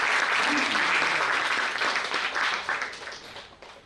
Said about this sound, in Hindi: अगर आप देना चाहें तो तालियों से आशीर्वाद दे सकते हैं